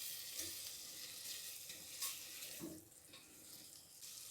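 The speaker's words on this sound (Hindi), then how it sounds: "और 2 से 3 मिनट इसे फ्राई करूँगी" Cabbage frying in a pan, a steady close sizzle with brief stirring scrapes and no talk.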